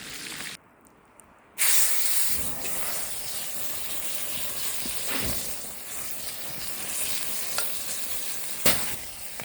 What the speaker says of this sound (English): Melted butter in the skillet. Seared the steak.